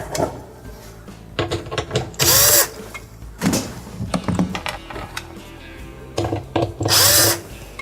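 Power drill removing screws from a Maytag dishwasher slide rail, with short close whirring bursts, several loud spins among clicks and handling knocks of the metal track.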